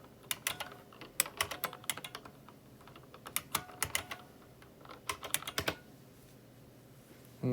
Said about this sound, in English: here I'm going to quickly type this in